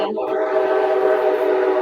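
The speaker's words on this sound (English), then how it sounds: "And we've got the train going by." A train going by, a loud sustained horn-like tonal blare with steady rumble that fills the whole short moment.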